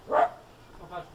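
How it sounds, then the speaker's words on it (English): A neighbouring dog gives one short bark, close and clear, then a softer second yelp a moment later, in a quiet garden by a pellet-fired pizza oven. "Next door's dog barking at the boiler"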